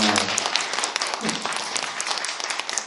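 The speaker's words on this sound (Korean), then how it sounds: "박수 한번 힘차게 보내주시기 바랍니다" Audience applause after a campaign policy speech by a presidential candidate, a steady wash of clapping with some voices mixed in, fairly distant and even throughout.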